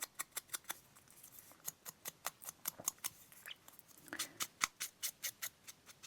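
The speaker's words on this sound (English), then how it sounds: "you got your Timmies out, your Tim Holtz. You know, the scissors" Tim Holtz scissors snip through paper in a quick run of about twenty sharp, evenly spaced cuts, close and clear with no talking.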